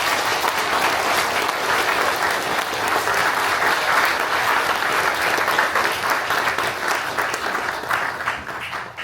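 A church congregation at Seongsan Church gives a retiring elder a strong, continuous round of applause, dense clapping that stays loud and steady throughout with no voices over it.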